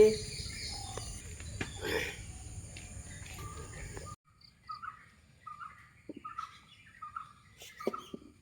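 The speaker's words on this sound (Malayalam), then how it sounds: "കിളികളുടെ ശബ്ദങ്ങൾ അവിടെ ഇവിടെയൊക്കെ കേട്ട് തുടങ്ങി" Birds chirp and call around a garden on a rainy day, faint scattered tweets over a soft insect hum, with a noisier muffled stretch at first before the quieter calls stand alone.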